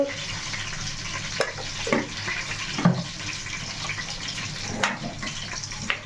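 Ingredients for mutton biryani sizzling in a pan: a steady, soft crackling fry with a few light clinks and stirring scrapes, fairly quiet and without talk.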